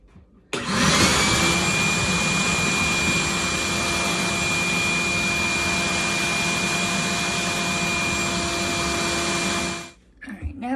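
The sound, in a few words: shop vac sucking water out of a dishwasher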